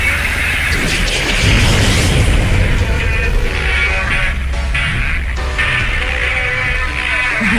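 Explosion blast in an animated story, a loud rolling boom with sustained rumbling debris noise filling the whole stretch.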